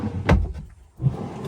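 A drawer below the kitchen sink of a 2016 Phoenix Cruiser M-2350S Class B+ motorhome slides open with a sharp close knock, then a second softer rolling slide after a brief pause.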